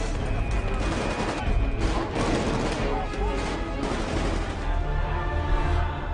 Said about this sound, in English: I need a machine gun.